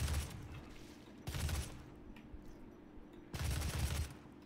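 Gunfire in the shooter game Doom, three heavy bursts of rapid shots spaced roughly two seconds apart over a constant low hum, loud and close with no talk.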